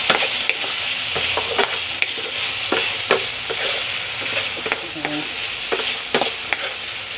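Vegetables and oyster sauce are stirred in a sizzling pan, with a continuous frying hiss and repeated spatula scrapes and taps at an irregular rhythm, close up and without talk.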